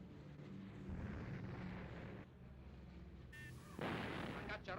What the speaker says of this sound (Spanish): Las baterías antiaéreas entran inmediatamente en acción.